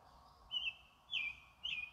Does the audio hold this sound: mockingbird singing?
yes